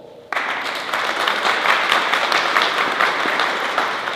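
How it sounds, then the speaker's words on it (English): A crowd applauds for Westchester County Legislator Ruth Walter at a congressman's special announcement, the clapping starting abruptly and holding steady and full for about four seconds. "Please give a round of applause to Westchester County Legislator Ruth Walter"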